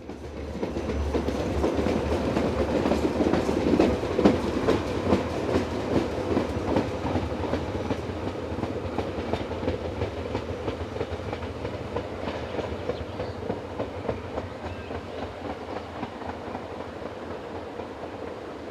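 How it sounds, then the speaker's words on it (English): A locomotive-hauled commuter train runs past on rails, rumbling loudly at first, then settling into rhythmic clickety-clack of wheels over rail joints that gradually fades. "Sister locomotive number 17090 arrives"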